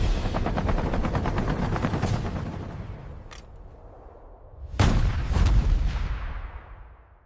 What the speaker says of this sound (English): The night is alive with gunfire.